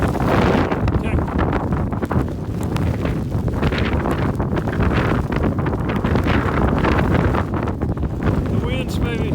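Strong mountain wind at roughly 45 to 50 mph during a sleet storm, roaring and buffeting the microphone continuously and loudly throughout, with gusting surges and no clear speech over it.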